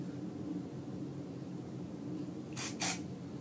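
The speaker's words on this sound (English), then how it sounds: "So I spray that in and then just shake it in." Two short hisses of hair volume spray onto the hair roots come near the end, each a quick burst over a faint, quiet room background.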